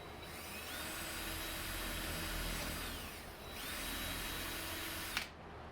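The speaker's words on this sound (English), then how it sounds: "this is going to be dangerously close to drilling through the box" A power drill whirs steadily through a cabinet in a Ford E350 van, briefly dipping mid-way before spinning up again, then cutting off with a short click at the end.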